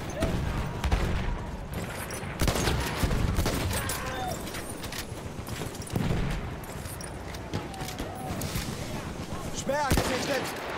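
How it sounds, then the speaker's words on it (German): Battlefield 1 combat with a thrown grenade and sustained gunfire, dense rattling volleys and sharp shots over a constant battle din, with voices faintly under the noise. "Ich werfe eine Granate!"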